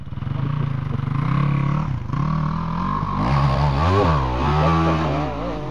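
A person imitates a motor engine with the voice, producing a loud, wavering buzzing drone that rises and falls in pitch like revving, continuing for several seconds close by.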